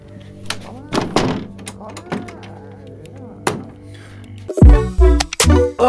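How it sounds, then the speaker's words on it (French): A door is shut with a heavy thump near the end, following a stretch of background music with sharp knocks and hits, in a house out in a remote countryside spot. "Fermez la porte aussi."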